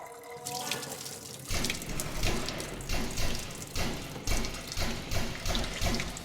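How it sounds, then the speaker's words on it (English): Water drains from rinsed rice into a sink as Korean short ribs are prepared, a close, continuous gush with rhythmic surges after a brief quiet start. "So we'll drain the water."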